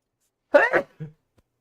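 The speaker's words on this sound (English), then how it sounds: "Just out of nowhere, just mega sneeze." A single short, sharp sneeze bursts out, followed by a brief faint vocal sound, close and otherwise quiet.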